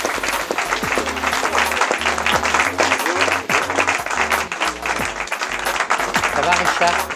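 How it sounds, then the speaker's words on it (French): A festival audience at a short-film event applauds a guest coming on stage, with steady clapping and scattered cheers while music with a thumping beat plays underneath. "je vous demande d'accueillir sous les applaudissements Monsieur Richard Taxi."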